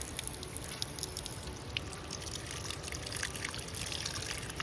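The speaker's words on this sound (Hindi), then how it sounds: "पानी आ रहा है चट्टानों में से छोटी छोटी और बिल्कुल साफ पानी आ रहा है" Clear water trickles out of rocks beside a mountain road in Uttarakhand, splashing continuously at a low, steady level, a small stream dribbling nearby with no voices.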